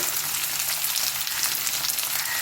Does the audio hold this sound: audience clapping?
no